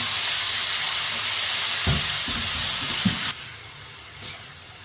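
Pork belly sautéing in a pan for Filipino dinuguan, a steady broadband sizzle filling the clip with a few soft clanks of stirring, then the frying hiss drops quieter near the end.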